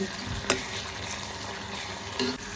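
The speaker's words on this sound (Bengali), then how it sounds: "মাশরুম দিয়ে দিয়েছি পরিমাণ মতো" Mushrooms and whole garam masala fry in a pan with a steady, soft sizzle and a couple of brief stirring scrapes, close up and fairly quiet, with no talking.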